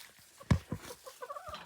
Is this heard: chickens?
yes